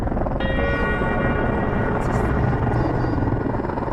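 A rescue helicopter on Mount Everest after an earthquake: rotor thumps and engine drone fill the scene, loud and steady, with a whining tone entering shortly after the start.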